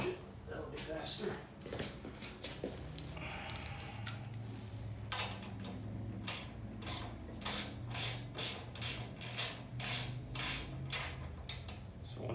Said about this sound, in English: I'll use a ratchet, that'll be faster.